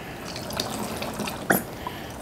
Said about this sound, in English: we're going to pour it over the top of these chicken livers